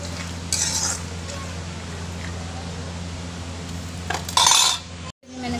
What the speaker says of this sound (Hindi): अभी मैं इन बादाम को भी थोड़ा कर रही हूँ, भूज रही हूँ इनको